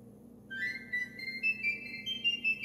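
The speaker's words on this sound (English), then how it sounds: "Here's the piccolo." Piccolo playing a short run of high, pure whistling notes that step upward, thin and piercing over a faint low background hum, fairly quiet and alone with no talking.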